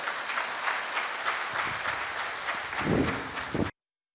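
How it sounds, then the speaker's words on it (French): Steady applause from an audience fills the room, sustained clapping for several seconds before cutting off abruptly. "Merci de l'applaudir, s'il vous plaît"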